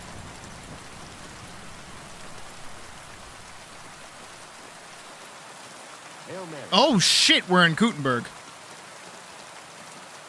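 Steady rain in the medieval world of Kingdom Come: Deliverance 2 hisses evenly for the whole stretch, with a few seconds of excited talk breaking in near the end.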